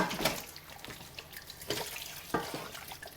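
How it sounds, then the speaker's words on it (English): Tap water runs into a kitchen sink while a whole duck is rinsed, a soft steady flow broken by splashy surges as the water hits the bird, fairly quiet and without talk. "Turn on the water and just rinse this off."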